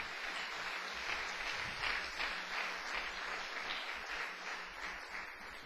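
A church congregation breaks into applause for Jesus during a sermon, a steady wash of clapping that stays fairly quiet and distant, with faint voices mixed in.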